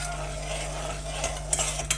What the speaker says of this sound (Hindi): जब तक चीनी हल नहीं होती चम्मच चलाते रहना